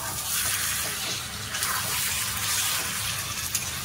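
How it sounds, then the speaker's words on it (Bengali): Spice-washing water is poured into a pot of mutton curry with papaya, giving a steady splashing gush that runs for a few seconds, close and fairly loud. "একটু মশলা ধোয়া জল দিয়ে দিলাম।"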